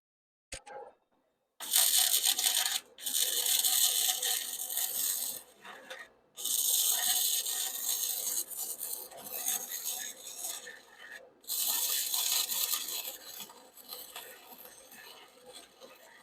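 A compact stick welder burns through steel at 100 amps, giving loud harsh crackling and sizzling arc bursts several seconds long, separated by brief pauses, heard close up with no talking.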